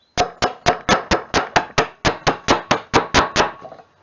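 A plastic screwdriver handle beats on a plastic tail light lens from a 1968 Dodge Charger to knock it free: about a dozen sharp, evenly spaced knocks in quick succession, close and loud.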